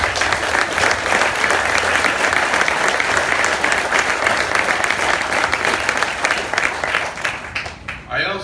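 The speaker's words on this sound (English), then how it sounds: "Would you please give them a round of applause?" Audience applause at an airport authority and energy company solar groundbreaking ceremony, a dense sustained clapping from a sizable outdoor crowd that holds steady and then tapers off near the end.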